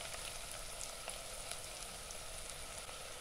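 Onions for moru curry sauté in a pan, giving a continuous even sizzle with faint crackles, close by and without speech.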